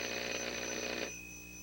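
A telephone sound effect rings with a buzzing, steady bell tone for about a second, then cuts off abruptly, leaving a faint sustained hum.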